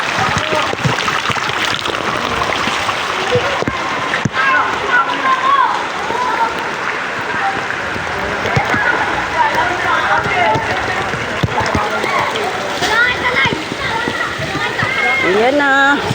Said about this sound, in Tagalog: Yung lamisa nyo, tinatangay na ng baha.